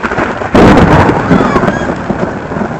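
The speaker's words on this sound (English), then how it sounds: "that was just lightning" Thunder after a lightning strike breaks in suddenly as a loud, close crack that rolls into a long rumble under rain, with faint voices nearby.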